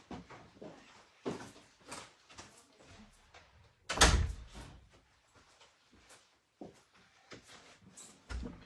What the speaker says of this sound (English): Just a minute and close the door.